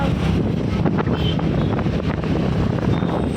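Strong wind buffets the microphone in a steady, loud roar with gusty rumbling throughout and no voices.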